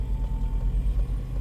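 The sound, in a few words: car manoeuvring in a parking lot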